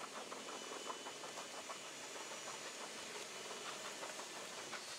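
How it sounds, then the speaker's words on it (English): Disc stirrer on a drill churning Koster Repair Mortar Plus powder and water inside a mixing drum, a steady loud whirring motor drone with gritty scraping texture running continuously without pause. "gradually add the powder into the mixing drum whilst stirring with a disc stirrer"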